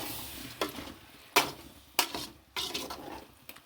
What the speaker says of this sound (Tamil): கொஞ்சமாக தேங்காய் பால் ஊற்றி கொஞ்சம் கிண்டி விட்டுக்கிடுவோம்